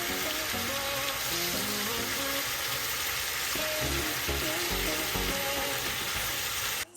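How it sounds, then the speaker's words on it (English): Shrimp sauté in a hot pan with a steady, loud, close sizzle throughout, with occasional soft clinks and stirring sounds mixed in. "you're just gonna saute these till they're cooked and done"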